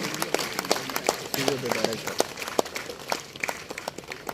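Audience applause at a construction industry award ceremony in Chennai: scattered, uneven claps from a modest crowd, sharp individual hand claps rising and thinning over several seconds, moderately close and not very loud.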